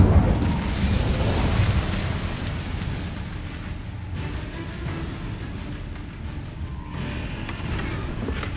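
The Incendio fire spell cast in Hogwarts Legacy bursts out as a loud, dense whoosh of roaring flame that slowly tails off into crackling rumble, with a second flare near the end.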